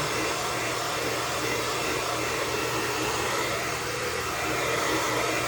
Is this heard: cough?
no